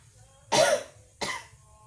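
Two quick coughs, close and distinct, separated by a short pause against a quiet background.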